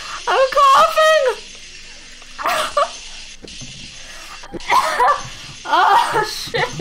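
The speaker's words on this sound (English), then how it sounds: "I coughed in my own saliva!" Someone coughing on their own saliva in bursts between loud laughter and exclaimed talk, close and raucous, with breathy gaps in between.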